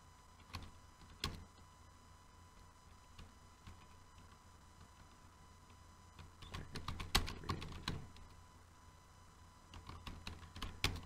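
Quiet computer keyboard typing in irregular bursts, with a few isolated clicks early on and a denser flurry of keystrokes later, faint against a low background hum.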